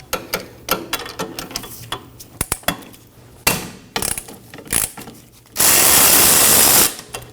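A ratchet on a wobble extension works the 14mm caliper bracket bolts of a 2003-2006 Subaru Baja rear brake, giving close, irregular clicks and metallic clanks, then a brief loud hissing burst near the end.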